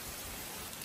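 Rain falls in a brief, steady, soft hiss of fine drops, heard alone with no voices.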